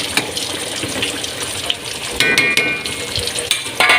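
Green beans sautéing in a hot pan, a steady close sizzle and fry with stirring scrapes and louder bursts of crackle partway through, no talking.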